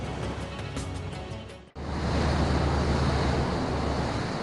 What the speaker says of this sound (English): 2 hours offshore, we see waves breaking on a reef.